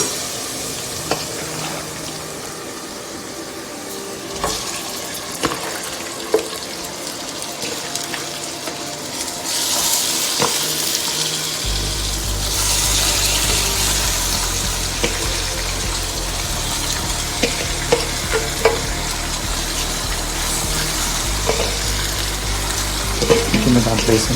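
Marinated chicken going into a pan for a spicy Andhra curry, with a steady sizzle and frying hiss that grows louder and busier halfway through, punctuated by occasional clinks of stirring.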